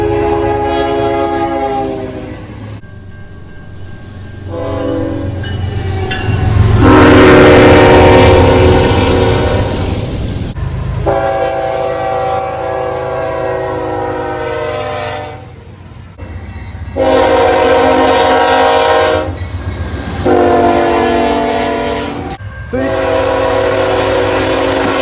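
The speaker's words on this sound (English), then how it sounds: "here are a few examples of the K3HL horn" A CN locomotive's K3HL air horn blasts several times, long loud chords separated by short gaps, the later blasts shorter, with a low engine rumble underneath.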